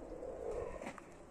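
Pigeons coo softly among birds in a peaceful farmyard, a short low murmuring call heard alone at moderate distance.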